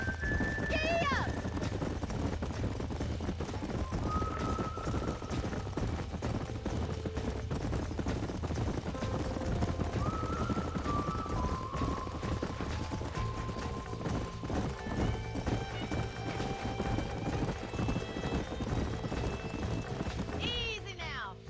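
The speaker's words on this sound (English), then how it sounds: "These are fine horses." Horses galloping in the video game Red Dead Redemption, a continuous rapid clatter of hooves running alongside music and occasional other game sounds, with voices talking over parts of it.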